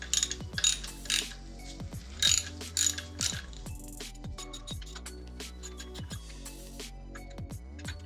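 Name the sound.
ratchet with 10mm extended socket removing engine bolts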